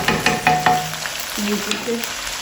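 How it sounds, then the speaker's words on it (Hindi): Chicken pieces fry in hot oil with a close, bright sizzle, punctuated by several sharp spatula knocks and clinks in the first second and lighter taps later; no talking. "इसको पहले फ्राई करेंगे ऑयल में, क्योंकि चिकन का कलर चेंज हो जाए।"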